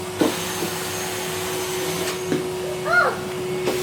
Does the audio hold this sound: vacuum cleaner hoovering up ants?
yes